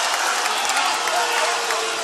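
Basketball arena crowd at a college game reacting after a foul is called, a steady loud wash of voices and scattered clapping with no pauses.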